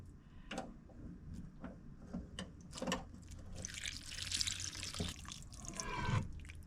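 Water from a tap pours into a pot of ingredients for snapping turtle soup, a steady close splashing and gurgling that swells louder as the pot fills, with a few clinks and knocks along the way.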